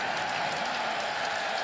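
A stadium crowd at a college football game between Wisconsin and Arizona State applauds after a kickoff return, a steady, diffuse wash of clapping heard from a distance without distinct individual claps.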